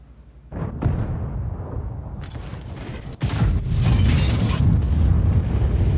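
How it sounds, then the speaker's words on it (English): A tank's main gun fires blind in the World of Tanks video game, producing a heavy, booming blast. A second loud, sharp crack follows a few seconds later, and rumbling battle noise continues throughout. "Maybe I'll do a blind fire. Let's do a blind fire."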